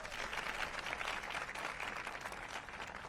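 An audience applauds and cheers to welcome Vice President Harris and Secretary Buttigieg at a Charlotte event, with dense, steady clapping from a large crowd that carries on without a break.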